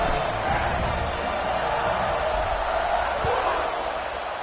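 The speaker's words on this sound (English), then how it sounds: "They're set to kick it off, and this crowd now ready to get behind them." Football stadium crowd waiting for the kickoff, a broad, steady roar of many voices filling the whole stretch, with a commentator talking over it.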